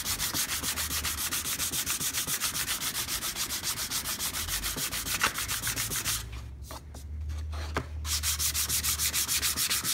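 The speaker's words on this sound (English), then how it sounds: "We don't necessarily have to make it flat, but we do want to try to sand everything." Steady back-and-forth hand sanding across an epoxy-coated wood surface, a continuous close rasping rhythm that pauses briefly near the end before resuming, with no talk over it.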